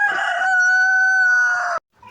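A rooster in a coop of crossbred layer and Bangkok chickens crows once, loud and close, in a long sustained call that stops sharply, followed by faint clucking.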